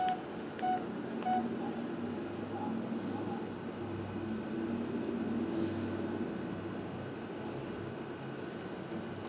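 Keypad tones sound as digits are entered on a Samsung Gusto 3 SM-B311V cell phone, a few short beeps early on over a steady low hum, with nothing else standing out.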